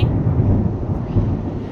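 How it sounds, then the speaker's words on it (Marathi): A low, continuous rumble of thunder with lightning rolls through, fairly loud and muffled, with a breezy wind-like hiss and no clear speech. "बघा कशा विजा कडकडायला लागलेत"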